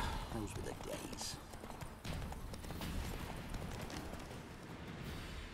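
Rhythmic hoofbeats of Geralt's horse Roach trotting in The Witcher 3, steady clip-clop under talking and ambient game sound.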